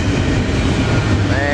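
A passenger train rumbles steadily past on a rail line, loud and close, with a faint wheel squeal rising near the end.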